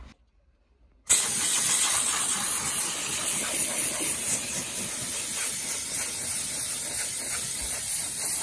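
An Optima steam cleaner bursts into a loud, steady hiss after a brief silence, blasting steam onto a panel and holding the continuous rushing sound to the end.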